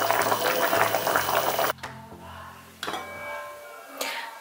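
Homemade cabbage rolls boil hard in a pot, a loud steady bubbling and seething that cuts off abruptly, then resumes more softly, with no voices.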